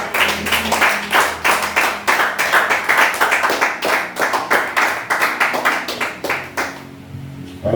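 Many hands clap in a steady, rhythmic beat as a church congregation acclaims during Sunday worship. The sound is loud and close, holds its pace for several seconds and stops abruptly near the end.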